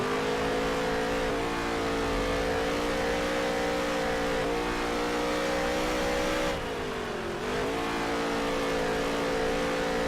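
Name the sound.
race cars on dirt track in NASCAR Heat 3 video game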